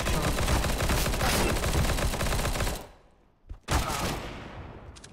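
Rapid, dense gunfire in a shooting video game, a continuous loud rattle of shots that stops abruptly, then a short pause and another burst of shots.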